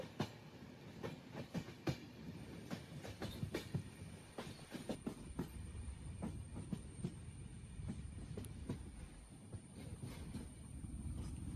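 Train running through heavy rain near Dharmasthala, a steady rolling rumble with rhythmic wheel clicks and a faint high squeal, while rain noise falls across the whole stretch without a break.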